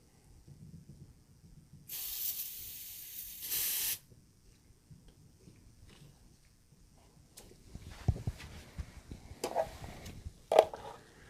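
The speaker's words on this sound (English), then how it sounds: "Now we want to purge the air out right here" Air purged through a refrigerant hose gives a steady, loud hiss lasting about two seconds, set against quieter handling noises and clicks afterward.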